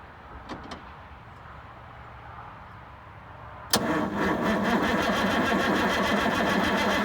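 Abandoned Versatile 895 tractor cranking over: quiet surroundings with a couple of faint clicks, then the starter kicks in abruptly with a loud, steady rhythmic churning that continues to the end.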